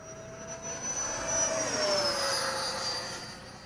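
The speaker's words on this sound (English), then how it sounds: "full throttle pass." A Freewing T-33 RC jet makes a full-throttle pass, its high electric ducted-fan whine sweeping past with a falling Doppler pitch, rising then easing in loudness, with no talk.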